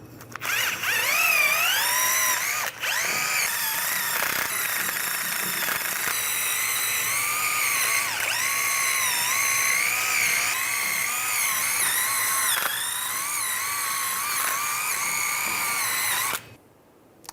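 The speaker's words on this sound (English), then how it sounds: "take a wire brush and just clean up the hub surface right here. If there's any excessive rust, take that off" A power drill spins a wire brush against the rusty brake hub of a 2007-2013 Chevrolet Silverado 1500, a loud, continuous whirring grind with wavering pitch as pressure shifts, running about sixteen seconds with a few brief dips.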